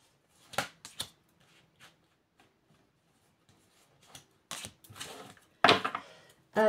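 Tarot-style cards handled and drawn for a reading, soft quiet shuffles and flicks in short bursts with silent gaps, a few louder rustles near the end.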